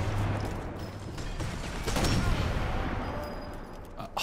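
Rifle fire in Sniper Elite 4, a few sharp reports cracking out around the two-second mark over a busy game background, with no voices.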